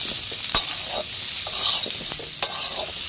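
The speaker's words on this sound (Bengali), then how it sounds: "এখন একটু নাড়াচাড়া করে নিচ্ছি।" Olives tossed with turmeric powder and salt in a hot pan, with steady sizzling and soft scraping stirs, a few sharp utensil taps against the pan, no talking.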